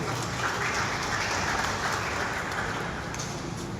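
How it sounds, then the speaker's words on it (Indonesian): Sustained audience applause at a farewell worship service for Papua political officials, many hands clapping steadily and loudly from start to finish with no talk over it. "Mari kita beri aplaus yang meriah."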